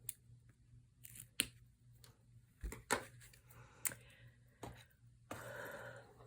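Scissors snip through the tail end of a ribbon on a Christmas tag, a few sharp, isolated cuts spaced apart in a quiet room with a low steady hum underneath.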